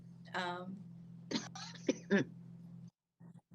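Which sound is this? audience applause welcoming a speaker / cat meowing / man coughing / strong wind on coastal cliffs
man coughing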